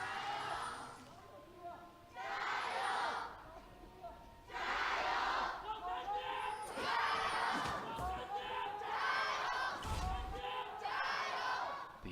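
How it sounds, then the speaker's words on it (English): LGD fans in a Hangzhou arena cheer for their home team against Team WE, swelling waves of roaring crowd noise that rise and fall several times, loud and distant-sounding, with thuds and clapping mixed in. "now it's time to hear from the crowd in Hangzhou as LGD take on Team WE"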